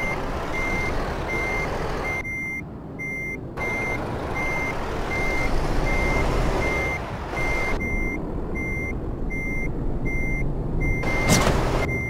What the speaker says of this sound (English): We'll leave the beacons on until we finish backing up.